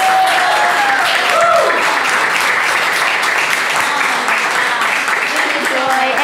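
Strong, sustained clapping from a conference audience after a talk with a Zume Pizza executive, with a speaking voice briefly audible over the applause.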